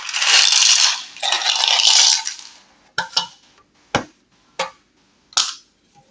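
Small metal charms rattle and clink as they are stirred in a small bowl, first as a continuous jangle, then as four or five separate sharp clinks, close and loud.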